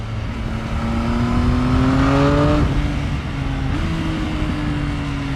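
A Triumph Speed Triple 1050 RS motorcycle engine pulls hard while riding, revs climbing steadily, then dropping and rising again through quick gear changes, loud and close with steady wind noise, no talking.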